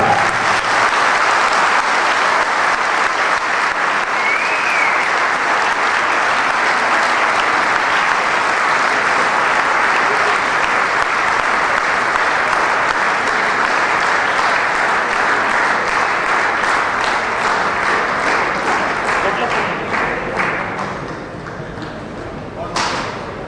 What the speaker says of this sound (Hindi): तालियों की गड़गड़ाहट कम नहीं रहनी चाहिए